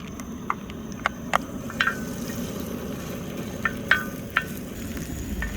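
Shrimp fry in a little oil with a steady, close sizzling hiss, broken by sharp clicks and taps of a utensil stirring in the pan.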